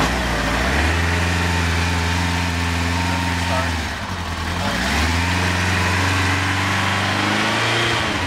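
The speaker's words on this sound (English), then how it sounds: "I'm gonna start the bike. I'm gonna open up the choke" Motorcycle engine with the choke open runs loud and close, a steady idle with strong harmonic drone that dips briefly midway before settling again, while someone talks over it.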